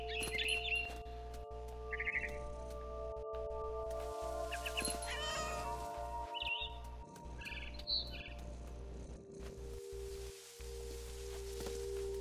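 A cat meows several times in What Remains of Edith Finch, drawn-out cries scattered through the stretch, mixed with bird chirps over a constant low hum and no talk.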